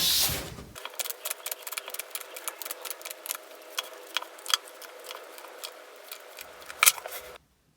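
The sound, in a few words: shuffling tarot cards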